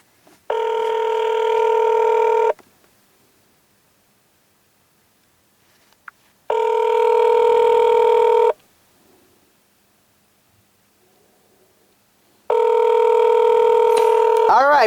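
Call tones on a Verizon Samsung Galaxy S6 running on the T-Mobile network: three loud, steady two-second ringback bursts, with silence of about four seconds between them and no talking.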